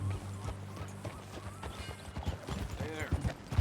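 Horse hooves clip-clop in Red Dead Redemption 2, a steady rhythmic trot of hoofbeats at close range over a low ambient bed, with a brief voice and a faint whinny mixed in.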